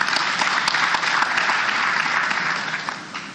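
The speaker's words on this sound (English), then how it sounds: "A round of applause for him." Audience at the opening ceremony of a customs conference breaks into applause, a full, even crowd clapping for about three seconds before fading slightly.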